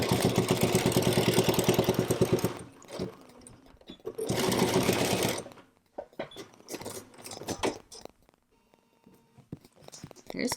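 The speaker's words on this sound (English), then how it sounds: "I'll go ahead and stitch close to the edge here" A sewing machine stitches close along the folded fabric edge of a face mask, running in two steady loud bursts of rapid needle chatter, then stopping for short handling sounds and light clicks.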